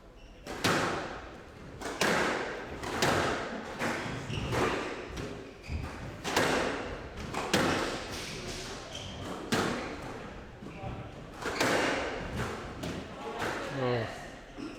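Squash ball struck repeatedly during a PSA Challenger Tour women's final at Panmure, sharp cracks and thuds landing every second or so at close range, with commentators talking over the rally.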